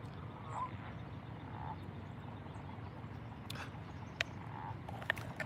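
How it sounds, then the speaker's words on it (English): Frogs croaking on a warm evening, a dense continuous chorus of low, rapid croaks heard from some distance, with a few faint sharp clicks over it. "First time of the year, the frogs is out."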